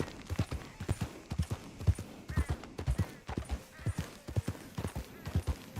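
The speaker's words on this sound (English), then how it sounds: "Horsey, I love Horsey." Horse hooves clip-clop steadily in Red Dead Redemption 2, a close, even trotting rhythm of repeated hoof strikes with no talk over it.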